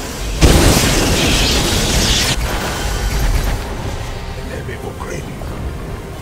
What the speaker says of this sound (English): I'm just gonna spam magic missile at him